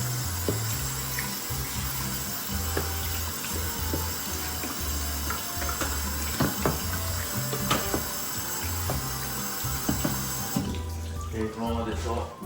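Tap water runs steadily over a sink as soap foam is rinsed off kitchen knives after sharpening, a continuous close wash with small knocks and clinks, while a person talks over it throughout.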